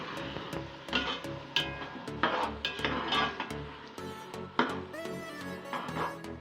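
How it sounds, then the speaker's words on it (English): Blended ginger, garlic, white pepper and celery cooking in a pan, heard as repeated clinks and knocks of a utensil against the cookware over a faint steady background. "Now I just added in our blended ginger, garlic, white pepper and celery, and we are just going to let this cook for about 2 minutes."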